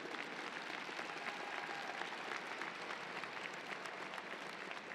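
Steady, dense applause from a large audience in the stands at a commencement ceremony, continuous clapping filling the space throughout with no talking over it.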